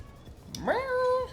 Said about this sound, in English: don't know if you can hear a cat meowing.